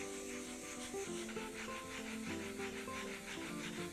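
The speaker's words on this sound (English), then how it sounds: "I take 400 grit sandpaper and lightly sand in circular motion" 400 grit sandpaper is rubbed by hand in gentle circles over a wet, sprayed surface being finished with Seal-Lac, giving a soft, steady, repeating rasp, quiet and close with no talk.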